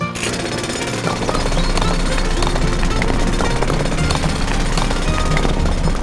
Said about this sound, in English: Will Hawk's drill help Mario?